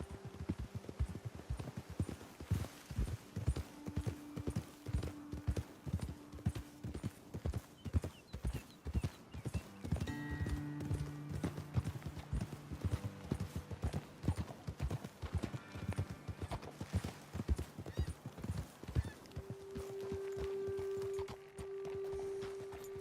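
Horses' hooves clip-clop in a steady walking rhythm during a ride in the video game Red Dead Redemption 2, the clear repeated hoofbeats carrying on throughout with a brief whinny-like tone.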